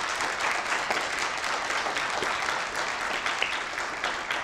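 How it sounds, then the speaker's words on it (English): Steady applause from a lecture audience fills the whole stretch, dense and even, with no talking over it. "can we have a round of applause for both of our speakers?"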